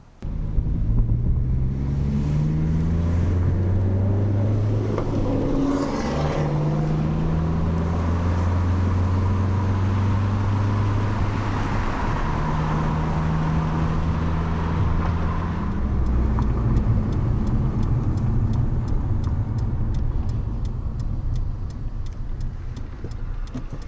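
A Nissan Sentra Spec-V engine hums and shifts through gears as the car drives along, steady road rumble with wind noise, no talking.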